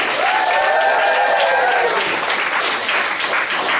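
Comedy club audience applauding and cheering a comedian as he is introduced: dense, loud clapping with a rising whoop of cheers early on, then settling into steady applause.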